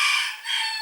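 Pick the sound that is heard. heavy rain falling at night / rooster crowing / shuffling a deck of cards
rooster crowing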